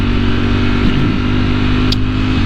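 Engine noise from a Ducati Multistrada V4S motorcycle ridden on the road behind another bike, a steady loud drone with low rumble and wind roar throughout, no talk.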